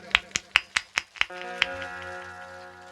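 Claps in unison from an audience at a Hindu religious discourse: about seven sharp, evenly spaced beats, then sustained harmonium-like music takes over.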